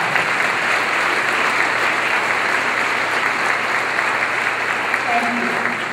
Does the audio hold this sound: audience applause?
yes